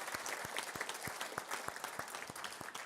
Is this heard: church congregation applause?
yes